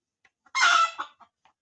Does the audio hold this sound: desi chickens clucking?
yes